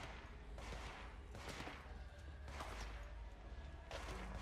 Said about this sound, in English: Somebody's definitely still shooting me.